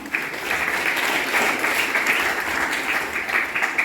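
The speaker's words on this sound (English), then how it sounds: "please give a round of applause to them" Audience applause at a secondary school graduation ceremony, a dense, steady wash of many hands clapping that holds at an even level for a few seconds with no talk.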